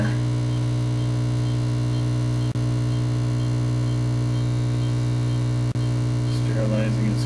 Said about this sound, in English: your air dryer is on right now.